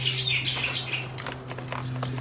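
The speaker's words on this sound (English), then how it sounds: "it's a nice sunny day and the birds are out" Bright, high chirps from birds flutter in quick bursts outdoors, close and clear over a low steady hum in the background.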